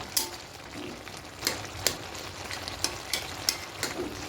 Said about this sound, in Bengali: আবার একটু ভালো করে এভাবে করে খুন্তি দিয়ে নাটিয়ে নেব, মানে তলার দিকটা উপর দিয়ে করে নেব